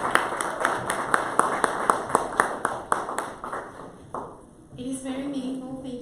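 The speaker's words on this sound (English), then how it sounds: "We want to give a very, very warm round of applause to each one of our panelists." A seated audience at a STEM forum claps steadily for panelists, with sharp, evenly spaced hand claps over several seconds before fading out. A brief tonal sound follows the clapping.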